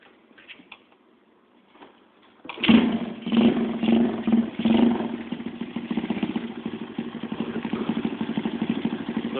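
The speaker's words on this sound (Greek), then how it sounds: "Αυτό είναι το μοτέρ που δουλεύει" A 62cc moto magos motorcycle engine, still experimental, fires up after faint clatter and settles into a steady, loud, buzzy running note with rapid ticking rhythm, close by and alone.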